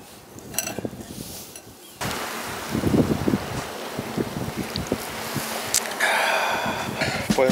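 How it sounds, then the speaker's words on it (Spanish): Sea waves wash along the shore of the Bay of San Luis Gonzaga in Baja California under gusting wind, with a steady rushing roar and a few louder surges of surf. "Ahí está el mar atrás de mí."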